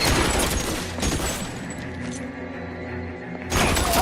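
Gunfire in the L.A. Noire shootout, with dense bursts of shots and loud cracks filling the whole stretch, close and harsh, easing for a moment before another heavy volley.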